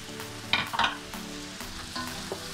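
Mushrooms, onion and cucumber pickles are stirred in a frying pan for beef stroganoff, a steady sizzle under a few louder scraping strokes of the spoon near the start, with no talking.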